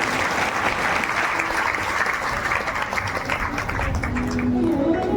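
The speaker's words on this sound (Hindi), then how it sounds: "एक बार उनके लिए तालियां बजाएं।" Audience at a Shiv Mahapuran katha religious discourse applauding: a continuous wash of many hands clapping, steady and moderately loud throughout, with no individual claps standing out.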